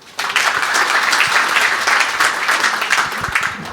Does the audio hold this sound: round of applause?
yes